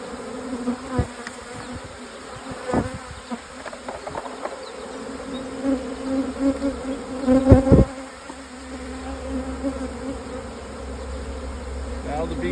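A steady hum of many honey bees buzzing close by at an open hive, with individual insects droning louder as they pass, plus some faint knocks.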